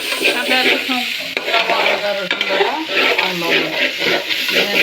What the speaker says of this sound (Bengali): এই যে মাছও মোটামুটি ভাজা হয়ে যাচ্ছে